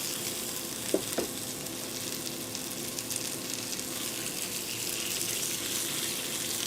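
Butter melting and sizzling in a hot frying pan alongside lamb, producing a steady close hiss and crackle with a couple of faint clicks early on.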